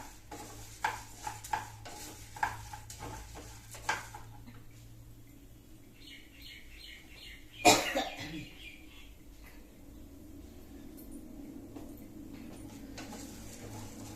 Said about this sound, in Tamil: இப்போ நம்ம கடலைப்பருப்பையும் போட்டு வறுத்துலாம்